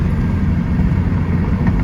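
A Subaru BRZ with its muffler removed, heard from inside the cabin while cruising. A steady, loud, low exhaust drone fills the car with no break.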